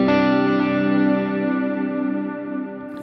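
Line 6 Helix guitar effects patch where a dry pick attack gives way to ambient reverb swelling in after the first delay repeat, sustained shimmering chordal wash ringing steadily without talk.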